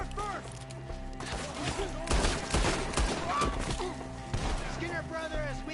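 Gunfire in Red Dead Redemption 2 during a shootout with enemies up in the trees, with bursts of shots and thuds mixed into game music and character dialogue.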